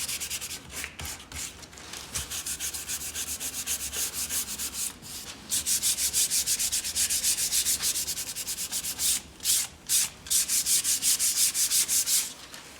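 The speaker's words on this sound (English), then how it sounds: "sand my edges down." Steady rhythmic sanding rubs back and forth along the edges of a wooden board, with short pauses between bursts of strokes, close and continuous.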